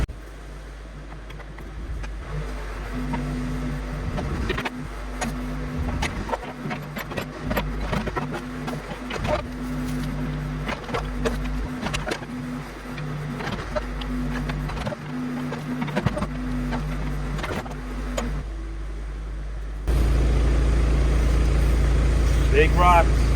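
A backhoe digs a large hole for a farm gate in rocky ground: a continuous diesel engine rumble with a steady low tone, broken by clanks and scrapes, ending in a louder, rougher engine roar.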